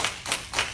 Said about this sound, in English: Come on, clap for that.